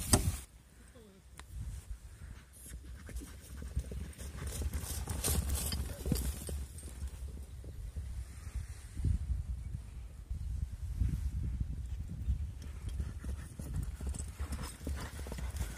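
Karabair horses trotting with steady, continuous clip-clop of hooves, fairly close and moderately loud, no talking.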